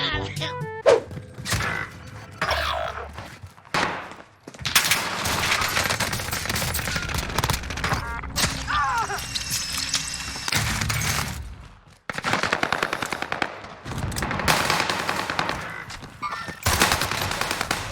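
Rapid automatic gunfire bursts from the Warzone video game, loud and dense, with brief pauses between volleys and occasional thuds.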